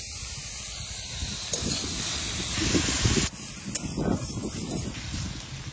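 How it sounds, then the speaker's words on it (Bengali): Water on a stove gives off a loud, close hissing rush of steam and bubbling that swells, cuts off sharply, then carries on more unevenly, with no voices. "দেখেছো বাবা উনুনে কিরকম টকবক করে ফোটে"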